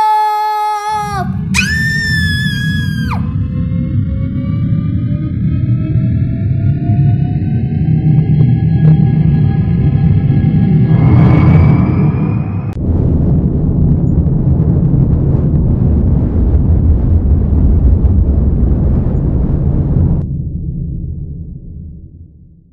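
An animated rocket lifts off with a rising, whistling roar that swells into a long, loud, rumbling blast, then cuts off abruptly and fades.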